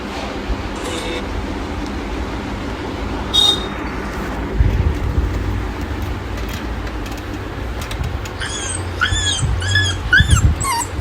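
A dog barks and yelps in a short run of sharp calls near the end, over steady traffic and road noise outdoors.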